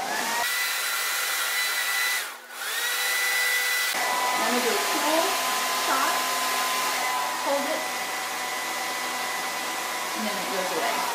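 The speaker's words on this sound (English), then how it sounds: "I need a new hair dryer." A handheld hair dryer blows steadily while drying hair, a loud constant whirring roar with a brief dip in the middle, as someone talks briefly over it.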